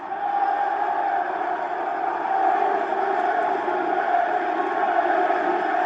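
A wrestling crowd at an AEW Dynamite show cheers in a loud, sustained roar that holds steady for the whole stretch, with no clear individual voices standing out.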